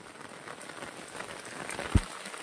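Rain falls on a village road in Konkan, a soft, steady patter throughout with one brief thump near the end.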